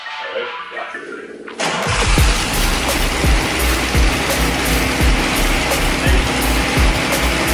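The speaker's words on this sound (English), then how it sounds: "the car runs." 1972 Datsun Z engine cranks briefly and then catches, settling into a loud, steady idle with a lumpy, pulsing rhythm close by.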